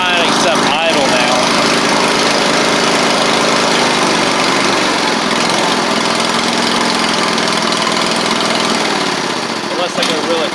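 John Deere L110 lawn tractor engine running steadily, a loud close mid-pitched drone with rough vibration, continuous for the whole stretch and dipping slightly near the end.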